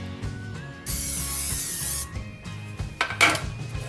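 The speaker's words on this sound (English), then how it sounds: "Spray your cans with oil." A sustained hiss of cooking oil spray on loaf pans for banana bread, about a second long, followed by clinks and rustles of pans being handled.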